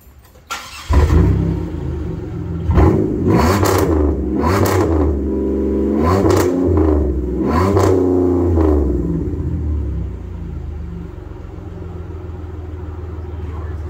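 A Pontiac Grand Prix with a 3.8 liter engine and muffler delete starts up and revs hard several times in close succession, loud raspy bursts rising and falling before settling into a rumbling idle.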